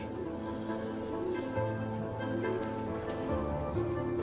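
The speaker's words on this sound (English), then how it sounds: "the rain just adds to it" Steady rain falls across Venice during a season of extreme high tides and Scirocco winds, a dense, continuous patter of drops hitting stone and water surfaces, close and even throughout with no voices.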